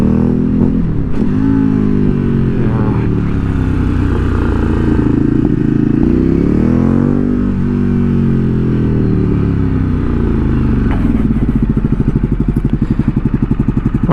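A Ducati Streetfighter 848 motorcycle engine runs loud and close throughout, revving up and down in repeated swells with a rough, throbbing exhaust note and a rapid pulsing burble near the end.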